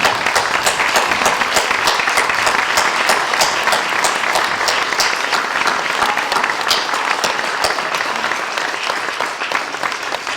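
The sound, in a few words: applause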